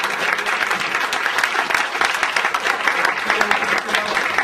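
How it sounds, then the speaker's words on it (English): Sustained audience applause at a leadership summit talk, a dense, steady wash of many hands clapping close and loud for the full stretch, with crowd murmur mixed in. "I'd like you to please give a warm applause to both of them"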